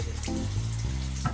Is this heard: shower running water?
yes